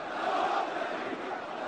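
A massed crowd chants anti-American slogans at a memorial rally for Qassem Soleimani. A dense, continuous roar of many voices fills the short span at moderate distance, without clear individual words.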